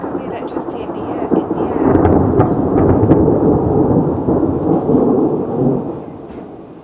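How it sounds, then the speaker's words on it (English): Thunder rolls in a long, deep rumble during a storm, building quickly and sustaining loudly before slowly fading, with faint voices nearby. "Thunder will come again."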